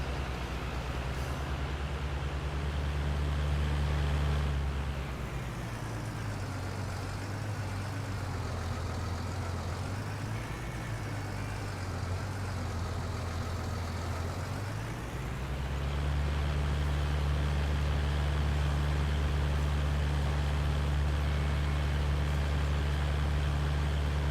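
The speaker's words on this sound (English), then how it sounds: "Not a bad little tractor that, 9 miles an hour for cultivating." A small tractor in Farming Simulator 19 drones steadily while cultivating crops at about nine miles an hour, its low engine note dipping in pitch midway before rising back to a constant hum.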